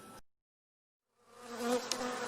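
Honey bees buzz close by, a warm droning hum that fades in after a short silence and swells steadily.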